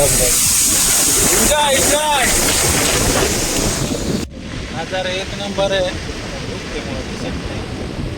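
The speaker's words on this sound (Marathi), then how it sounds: "आलेलो निसते धबधबे देख ना काय पण मित्रांनो" A waterfall swollen by rain: a steady, close roar of rushing water with wind buffeting the microphone, while someone talks over it.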